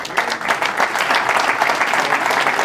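Audience applause for a presenter at an Ignite evening, a dense, steady wash of many hands clapping throughout, fairly loud and close, with no voices rising above it.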